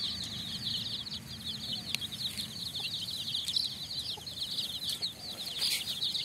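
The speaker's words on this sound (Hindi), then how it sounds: "देखिए बहुत सारा मुर्गी का बच्चा है, खाने के लिए ले मांग रहा है।" A crowd of young chicken chicks cheeps continuously at close range while waiting to be fed grain, making dense overlapping high peeps with lower scratchy background noise and no speech.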